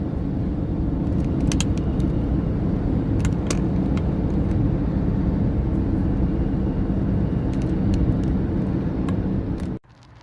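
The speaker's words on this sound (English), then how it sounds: "Now I am on the motorway. I'm driving now 100, which is accepted." Steady road roar of a car cruising on a motorway at about 100, a continuous loud rumble of tyres and engine with occasional faint clicks, cutting off abruptly near the end.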